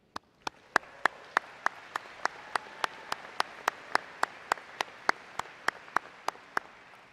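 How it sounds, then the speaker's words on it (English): Graduates at an Aiken Technical College spring 2024 graduation ceremony applaud themselves: a steady bed of crowd clapping with one loud, close clapper striking a sharp, evenly spaced beat about three times a second throughout. "I want you to give yourselves a round of applause"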